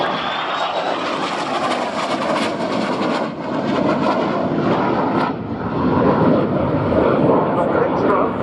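A Spanish Harrier jet roars past at a Royal Navy air day at Yeovilton, a loud, sustained engine rumble and whine that swells and shifts as the aircraft moves, with a voice talking over it.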